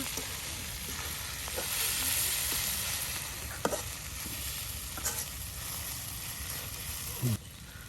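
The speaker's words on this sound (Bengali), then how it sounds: "এই যে আপনার পেঁয়াজ রসুন মরিচ আরও ভাজা ভাজা করার জন্য তেল দেওয়া হইলো" Onion, garlic and chilli fry in oil for a village-style dried taki fish bhuna, a soft, continuous sizzle with a few sharp clinks of stirring near the end.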